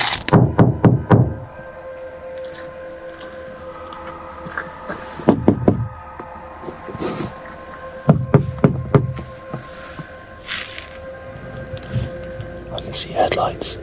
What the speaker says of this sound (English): Sharp, deliberate knocks against his vehicle's exterior that severed sleep with surgical precision.